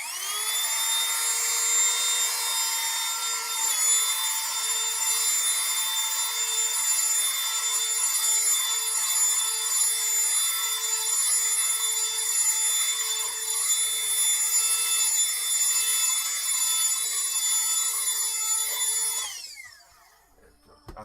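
An electric air blower blasts eraser dust off a finished drawing, a loud continuous high-pitched whine with a steady motor hum that holds for about nineteen seconds and then winds down.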